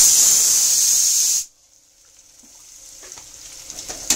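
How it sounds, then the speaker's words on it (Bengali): Chili powder, cumin powder and coriander sizzle loudly in a hot pan with a bright, steady hiss for over a second, then cut off abruptly, leaving a much quieter low simmer. "ভালো করে এবার মশলাটাকে দিয়ে কষিয়ে নেব।"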